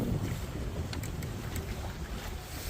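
Wind blows at sea on a sailboat passing the Cape Cod Canal. It is a steady, rumbling rush that buffets the microphone, with a faint wash of water beneath it.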